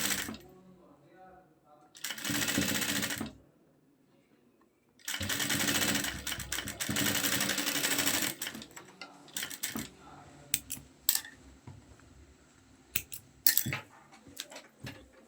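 Sewing machine stitching lace onto a shalwar cuff, with two long bursts of running stitches separated by a pause, followed by scattered clicks and handling taps of fabric and parts.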